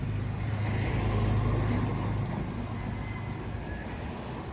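Steady street traffic of motor tricycles and a few cars on a Naga City street in the early morning, a continuous low engine rumble and road hiss passing nearby without pause.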